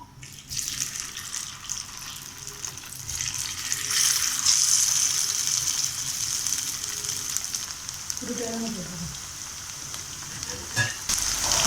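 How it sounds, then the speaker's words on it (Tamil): Egg 65 pieces deep-fry in hot oil in a pan, a continuous close sizzle and hiss with occasional bubbling and a brief clink of a utensil. "எண்ணெய் காஞ்சதை நம்ம பொரித்து எடுத்துப்போம்."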